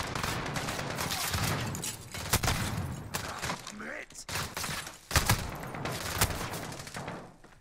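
Gunfire in the video game Call of Duty Spec Ops, dense bursts of automatic shots and sharp impacts that carry on steadily and loudly throughout, with game sounds layered in the mix.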